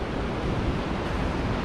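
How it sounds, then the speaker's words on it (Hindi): Fast mountain water rushes down from a waterfall near Joshimath, a loud, steady roar of flowing water filling the whole clip without pause or talk. "कितना तेज पानी ऊपर से आ रहा है"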